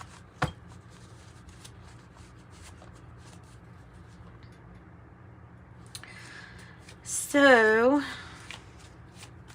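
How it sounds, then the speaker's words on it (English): Tarot cards are shuffled by hand with soft, continuous riffling and flicking close by, under a speaking voice, with one brief sharp tap near the start. "Let's shuffle again."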